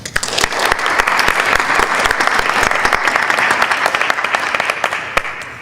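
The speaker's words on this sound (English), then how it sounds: "You can all clap for her." Attendees at a school board of education meeting clap for an honoree, a loud, steady burst of many hands with sharp individual claps standing out, close and continuous before thinning slightly at the end.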